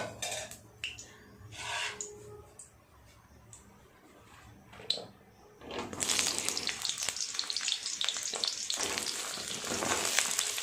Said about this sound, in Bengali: কড়াই তেল দিয়ে সবজিগুলোকে ভেজে নেব।